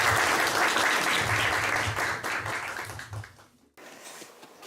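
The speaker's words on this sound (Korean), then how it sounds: "우리 다 같이 박수로 우리 선생님 맞이하도록 하겠습니다." An audience applauds to welcome a lecturer, a dense round of clapping in a hall that swells at first, thins out and stops, then a faint room murmur follows.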